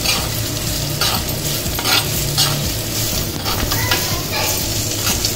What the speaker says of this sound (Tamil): வெங்காயம் வந்து கொஞ்சம் நல்லா வதங்கணும்